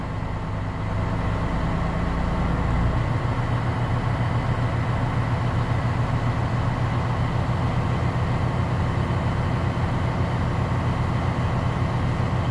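A 2022 Freightliner truck engine running steadily at 1200 RPM during an air brake check, a constant loud mid-pitched diesel drone close by with no talking.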